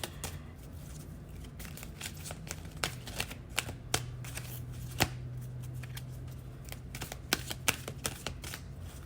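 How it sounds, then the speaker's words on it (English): Oracle cards from a Soul's Journey deck being shuffled by hand, a steady run of crisp riffling flicks and snaps at close range, with a faint low hum underneath and no talking. "Shuffle one more time."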